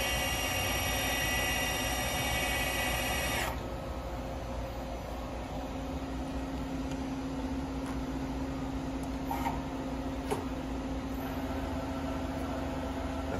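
A new 2004 Daewoo Puma 240 MSB CNC turning center runs its live tool at 650 RPM, giving a steady close mechanical whine and hum whose tone shifts and drops after a few seconds, with no voices.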